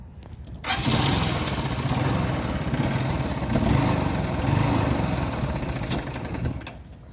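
A motorcycle engine starts up after a brief quiet moment, then is held at a loud, rough rev with rising and falling throttle for several seconds before cutting off sharply at the end.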